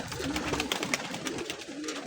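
Pigeons coo softly in a short burst, low rolling calls close by, with faint rustling in the background.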